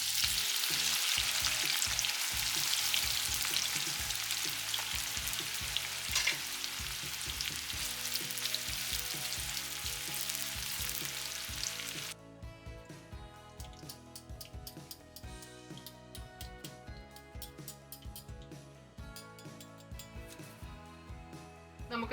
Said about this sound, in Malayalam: ഇനി ഈ സവാള വറുത്തെടുക്കാനായിട്ട് ഞാൻ നെയ്യുടെ കൂടെ കുറച്ച് വെജിറ്റബിൾ ഓയിലൂടെ ഒഴിച്ചിട്ടുണ്ട്.